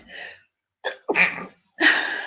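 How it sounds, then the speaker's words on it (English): A close sneeze with a sharp breathy intake and a loud burst, followed by another forceful exhale, with no talking. "Sneezing."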